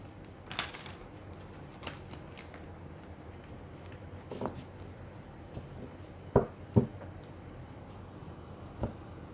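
Tarot cards being handled and drawn from a deck: soft, quiet rustling with scattered sharp flicks and taps, a few louder snaps near the end, and no talking.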